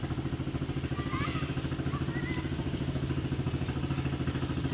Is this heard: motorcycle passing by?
yes